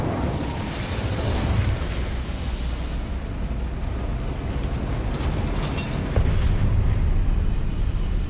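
A fiery Incendio spell bursting in Hogwarts Legacy, a loud sustained roaring rush of flame that holds steady for several seconds, alone with no talk.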